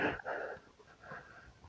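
On a hot day of about 90 degrees during a walk along a trail, a dog pants close up in quick raspy breathy bursts, loud at first and then easing slightly.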